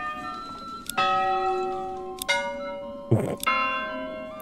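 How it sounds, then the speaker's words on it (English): Church bells in the Manor Lords village-building game ring out in three separate resonant strikes, each a bright clang with a long humming decay, close and clear against a quiet background. "We can change the bell sound."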